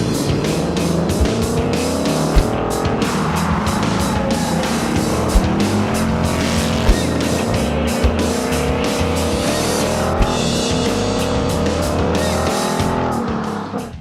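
A 2019 Ford Mustang GT Performance Pack 2 on a race track, its V8 roaring loud and close as it climbs and shifts through gears, with brief tire squeals and a steady howl.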